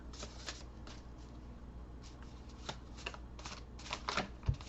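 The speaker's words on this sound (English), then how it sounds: "I can already feel this deck is like so excited to be shuffled." A deck of tarot cards is shuffled by hand at close range, giving repeated soft riffling and slapping bursts at an irregular rhythm, with no talking over it.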